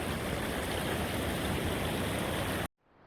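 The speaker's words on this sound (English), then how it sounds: "this is a little small stream" A small stream in Bahia rushes steadily as a close, continuous broadband wash that cuts off abruptly near the end.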